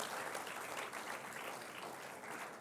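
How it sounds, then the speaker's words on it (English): Audience applause for teachers at a school opening ceremony for a festival of learning, a steady, dense wash of many hands clapping throughout with no break. "give a big round of applause to our teachers"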